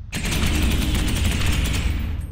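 A rapid burst of loud automatic gunfire from a weapon in the video game Space Hulk: Ascension rattles continuously for about two seconds, dense and close, then cuts off.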